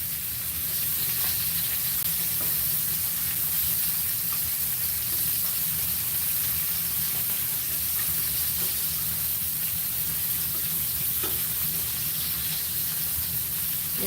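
Food sizzles and fries steadily in a small non-stick pan, a constant close hiss with faint crackles throughout and no talking.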